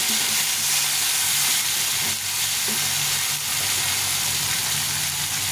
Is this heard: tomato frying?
yes